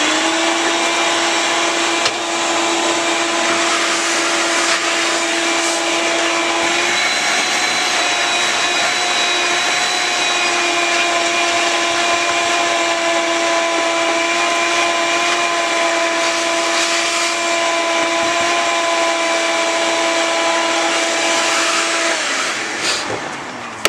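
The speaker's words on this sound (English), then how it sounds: "I already vacuumed this area earlier, so it wasn't too bad. I kind of just did this as a demonstration." A vacuum cleaner runs continuously with a high steady whine as it cleans a car interior, loud and close for over twenty seconds, pitch shifting slightly as the nozzle moves and winding down at the end.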